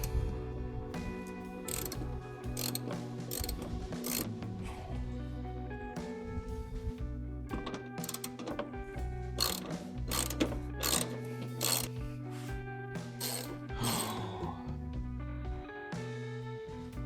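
Ratchet wrench clicking while removing the 10 mm bumper bolts on a 2008 Toyota FJ Cruiser, with quick repeated pawl ticks in bursts and some metallic clanks, close up and without talk.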